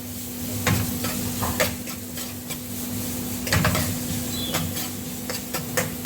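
Vegetables for Korean fried rice sizzle in a pan with steady frying hiss. Repeated scraping stir strokes of a utensil against the pan come every second or so, close and without speech.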